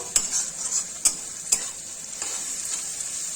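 Ground spices stirred into fried onions in a pan, giving a steady hissing sizzle with a few sharp spoon-against-pan clicks, close and moderately loud, with no talking.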